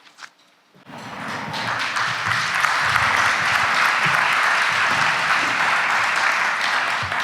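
A crowd at a university Hall of Fame ceremony bursts into loud, sustained applause and cheering that swells quickly after a brief quiet start and keeps up steadily, close and dense.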